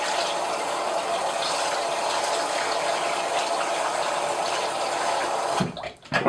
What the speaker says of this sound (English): Run under the hot water a little bit.